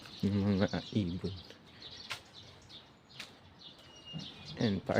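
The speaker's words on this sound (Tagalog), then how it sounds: "Yung mga ibon." Birds chirp and tweet in a village in Hungary, with short high calls scattered through the clip while someone talks nearby at the start and end.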